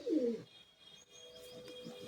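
Madrasi pigeons in a loft give a short burst of cooing at the start, then quieter faint murmurs and rustling follow, soft and close.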